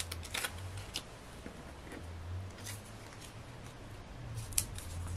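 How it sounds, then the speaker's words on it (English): Scissors snip through a sheet of craft paper, cutting it in half, with a few quiet crisp cuts and some paper rustle over a low background hum, close and soft. "let's cut that in half"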